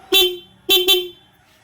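A Yamaha WR155 motorcycle, under restoration after crash damage, sounds its horn: one short honk, then two quick honks, loud and close.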